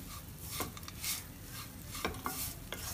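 A spoon stirs crunchy okra fry dusted with amchur powder in a pan, giving quiet, intermittent scrapes and clinks over a faint background sizzle, with no talking.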